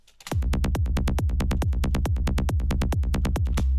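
A driving psytrance kick drum and rolling bassline pulse in a fast, steady rhythm, loud and punchy, with no voices.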